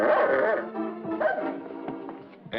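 A small dog barks and yips on a vintage children's puppet television show, a series of bright, close barks with whimpering tails, ending in one sharp yip.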